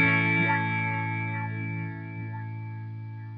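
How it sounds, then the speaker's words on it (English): A sustained, distorted guitar chord rings while a filter sweeps slowly up and down through it, giving a wah-like moving tone that fades gradually. "Can hear that filter sweeping."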